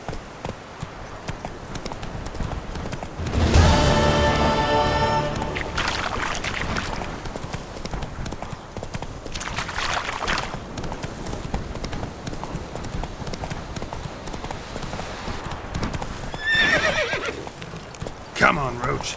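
Roach the horse in The Witcher 3: Wild Hunt gallops with steady rapid hoofbeats, then lets out a loud, clear neigh, followed later by a second shorter whinny, with a voice speaking over the hooves.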